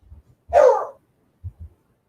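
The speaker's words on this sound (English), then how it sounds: "Where are you, Molly dog?" A single short bark from a dog indoors, sharp and fairly close, with a few faint low thumps before and after in otherwise quiet surroundings.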